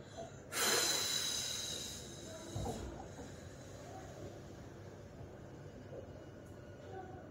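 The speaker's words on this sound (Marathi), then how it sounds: "आता इथे श्वास सोडत सोडत" During a belly-fat exercise, a single long, slow exhalation comes out as a breathy hiss, close and fairly loud at first, then fades into a quiet room.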